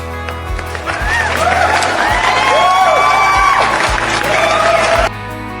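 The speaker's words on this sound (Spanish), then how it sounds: "Un aplauso para ellos." A small crowd at a Peruvian education podcast applauds and cheers the guests, with claps, whoops and excited shouting close by for about five seconds, then it cuts off abruptly.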